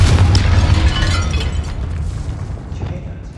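A Confringo fire blast spell in Hogwarts Legacy erupts as a loud, booming roar at close range, then slowly dies away over a few seconds.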